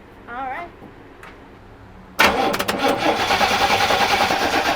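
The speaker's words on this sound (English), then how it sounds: "Go ahead and start cranking it." A 1970 Chevrolet C10 truck engine cranking on a weak battery, a loud steady churning rhythm starting abruptly after a brief quiet stretch with faint voices.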